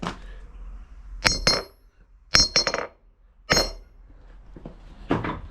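A hammer strikes metal on a blacksmith's anvil in several sharp ringing hits, some in quick pairs, with bright metallic ping and quiet gaps between blows.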